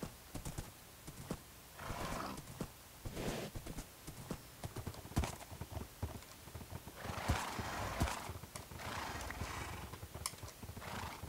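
A horse in the Minecraft video game gallops with quick rhythmic clip-clop hoofbeats and lets out neighs along the way, a busy run of game sound effects with no speech.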